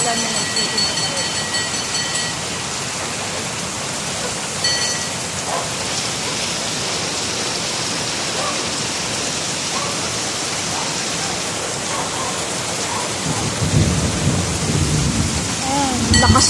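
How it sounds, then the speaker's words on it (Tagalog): Heavy rain pouring steadily outdoors, a dense continuous roar that grows louder near the end, with occasional rumbles and a voice talking faintly under it. "Lakas ng ulan. Lakas ng ulan."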